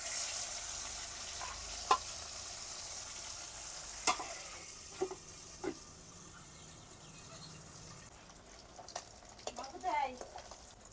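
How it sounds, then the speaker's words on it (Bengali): Pieces of pangas fish frying in hot oil in a home kitchen, a steady soft sizzle with a few sharp spatters and utensil clinks scattered throughout, moderately close. "বাকি মাছটিও ভেজে নেব।"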